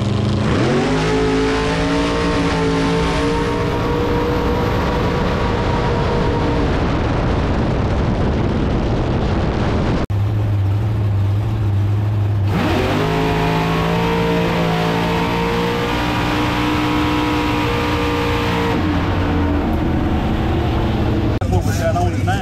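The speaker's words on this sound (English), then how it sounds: "As they are cooking down the racetrack, Misfit puts a wind light on." A supercharged funny car roars down a drag strip at a Texas race, its engine a loud, sustained howl that climbs in pitch, cuts out briefly, then surges again near the mic, with a voice talking over it.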